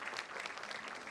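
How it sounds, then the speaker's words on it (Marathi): A crowd in a college annual day audience claps for the musical team, a brief, steady patter of applause heard faintly and at a distance. "एकदा जोरदार टाळ्या"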